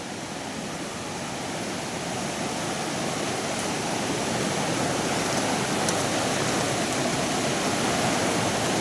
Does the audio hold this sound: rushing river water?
yes